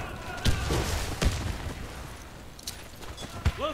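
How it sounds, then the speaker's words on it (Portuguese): A grenade is thrown and explodes in a video game amid several sharp, loud gunfire-like bangs, spaced irregularly over a few seconds against steady background game noise. "Lançando granada!"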